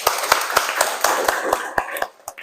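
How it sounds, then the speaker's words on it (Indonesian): A class of students clapping hands together at the end of a lesson, rhythmic unison claps about four per second, fairly close, with a few scattered claps and a brief voice at the end. "Tepuk tangan semua"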